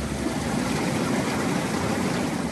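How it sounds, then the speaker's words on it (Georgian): A glacial river flows down from the Buba glacier beneath boulders, making a steady, dense rushing roar with no voices. "იმ ქვების ქვემოთ, რომელზეც დავდიოდით, მოედინებოდა ბუბას მყინვარიდან წამოსული მდინარე."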